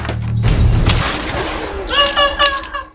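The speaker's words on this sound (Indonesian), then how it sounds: "Jemari Cat auto-keriting oleh tembakan Jim yang baru tiba di pondok." A film scene with a sharp, heavy gunshot near the start followed by a decaying echo, then brief tonal sounds like a voice or cry toward the end.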